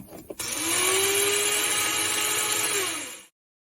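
A bone mill grinds bone for an autologous bone graft with a steady, loud mechanical whir lasting about three seconds, after a few brief clicks, then stops abruptly into silence.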